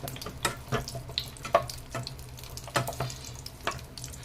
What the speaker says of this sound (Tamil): எண்ணெயில் போட்டு வதக்க போகிறோம்.